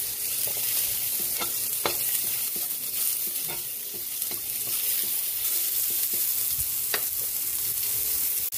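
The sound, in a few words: onion sizzling and stirred in frying pan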